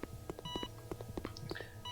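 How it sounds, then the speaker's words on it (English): Electronic medical-monitor beeps sound in a hospital-themed survival horror game called 84, regular tones pulsing over a low ambient drone with a few higher chirps. "it's a hospital themed, as you can hear by the beeping noises"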